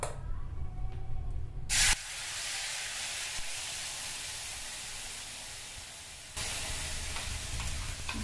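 An onion-tomato paste hits a hot pan for rajma and bursts into a loud, continuous close sizzle that runs for several seconds, then drops back to a lighter frying hiss.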